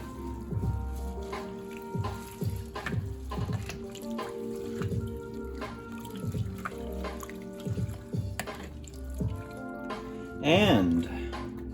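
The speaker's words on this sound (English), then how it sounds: "We'll give it a big stir." A spoon stirring Spanish lentil stew in a pot of water, lentils, carrots and potatoes, giving rhythmic wet sloshes and scrapes up close, under someone talking.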